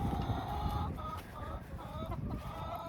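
Hens cluck in a backyard garden, a steady, close chorus of soft overlapping clucks running throughout.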